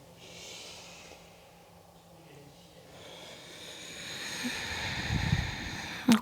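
Breathing during a vinyasa yoga flow: faint, slow airy inhales and exhales under quiet room noise, growing slightly louder toward the end.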